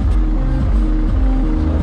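A vehicle engine idles and revs in a parking area, a steady low rumble with rhythmic pulsing throttle blips, close by and alone.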